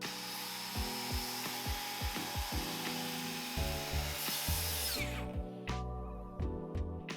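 A saw rasps through wood, cutting thin slices for a hammock stand, in a steady series of short back-and-forth strokes, loud and close, with a brief pause partway through.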